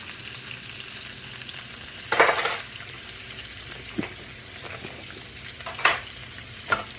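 Shrimp and garlic frying in oil in a pan make a close, steady sizzle, with scraping bursts as a spatula stirs them at uneven intervals.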